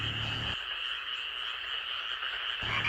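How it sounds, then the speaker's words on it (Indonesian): Golden poison frog calling with a continuous high buzzing trill that holds steady for the whole stretch, moderately faint, without any voice. "Inilah Golden Poison Frog, salah satu katak paling beracun yang pernah ditemukan manusia."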